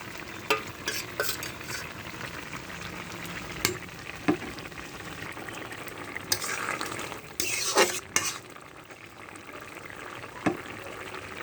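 Black cumin, cumin and black pepper fry and sizzle in a pan with occasional stirring and utensil scrapes, a soft, steady crackle broken by brief sharper clinks.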